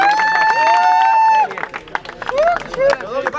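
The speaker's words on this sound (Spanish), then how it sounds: "¡Aplausos!" A crowd at a freestyle rap battle tournament claps and cheers, with excited voices shouting over the applause in a lively, close-sounding burst.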